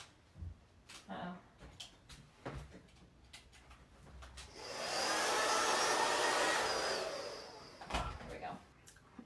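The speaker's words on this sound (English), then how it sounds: "So I am gonna give this a quick blow dry really quick, just so my colors don't mix." A handheld hair dryer blows on wet acrylic paint on a canvas, switching on after some light handling clatter and running loud and steady for several seconds before cutting off, followed by more soft knocks.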